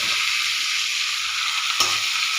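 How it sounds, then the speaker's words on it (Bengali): Water poured into a sizzling pan of katla fish curry with potatoes and pointed gourd, giving a steady close hiss with a brief splash-like burst near the end. "এরপর এটাতে জল দিয়ে দেবো।"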